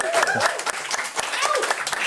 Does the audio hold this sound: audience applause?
yes